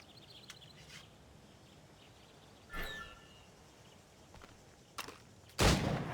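Target-shooting gunfire in Assassin's Creed Rogue: a few sharp, separated shots at irregular intervals over a quiet ambient bed, the last crack the loudest and closest.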